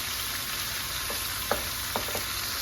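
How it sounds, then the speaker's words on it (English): Tomato paste sizzles in a pan beside browned short ribs, a steady close frying hiss with a few faint scrapes and taps of a utensil and no voices. "our tomato paste is cooking off there"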